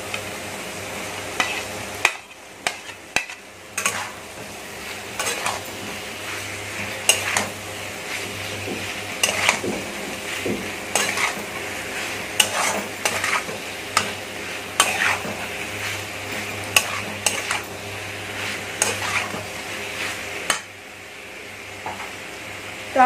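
Prawns stirred and frying in a pan, a steady close sizzle broken by repeated scrapes and clinks of a utensil against the metal, with a brief quieter gap early on.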